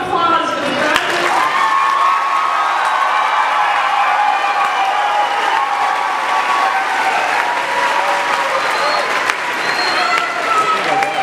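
A crowd applauds graduates at a mid-year high school graduation ceremony, loud, continuous clapping with faint cheers and crowd murmur mixed in, holding steady for about eleven seconds.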